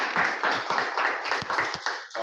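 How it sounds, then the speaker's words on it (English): Applause from an audience in a public speaking class, steady broadband clapping with a few distinct claps standing out, moderately loud and continuous throughout. "Round of applause for you."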